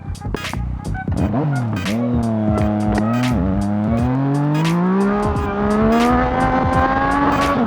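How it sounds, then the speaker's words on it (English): Yamaha MT-09 motorcycle ridden at speed during a wheelie, its engine note rising and falling with throttle changes over steady wind rush, loud and close from the rider's position. "The worst tank slapper I've ever had was actually on a friend's bike. It was on an MT-09"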